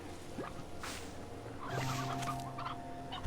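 A chicken in the video game Slime Rancher 2 clucks in a few short, soft bursts over a quiet ambient backdrop.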